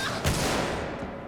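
Enemy gunfire in the survival horror game Alien Isolation: a loud, dense burst of shots opens into a sustained harsh crackling roar close by, lasting just over a second with no talking.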